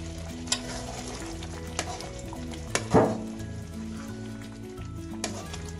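Chickpeas cook in a pot over low heat as yogurt is stirred in, giving a steady close sizzle with a few soft scraping stirs and one brief louder splash partway through.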